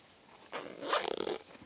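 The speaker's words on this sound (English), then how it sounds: "the zips just do up nice and easy" A zip on a Helikon-Tex mini med kit pouch is pulled closed in one quick, close rasping pull, with no talking.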